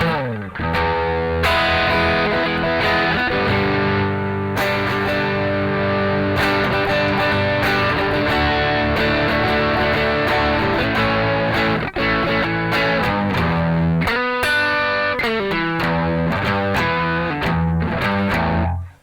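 Electric guitar played through a Keeley Aria overdrive pedal set to full, loud distorted chords and sustained notes ringing continuously, close and bright with a few brief pauses, no speech.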